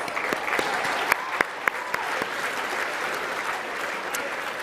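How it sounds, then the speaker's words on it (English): A large audience at an Australian football league awards night (VFL Best & Fairest) applauds the nominees with steady, full applause, a few sharper individual claps standing out near the front. "Let's give them all a round of applause, please"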